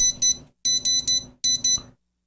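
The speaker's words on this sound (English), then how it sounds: "I can turn on and turn off the buzzer." Electronic buzzer on a DIY six-legged hexapod spider robot kit sounds in short bright beeps: a double beep, then a triple, then another pair, loud and clear with no talk.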